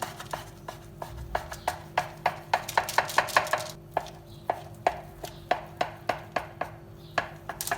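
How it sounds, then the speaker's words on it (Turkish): A knife cuts through scone dough on a board, making a steady run of sharp, close chopping taps, quicker and denser midway, then spaced again, with no voices. "Şimdi bunu gelişi güzel keseceğim."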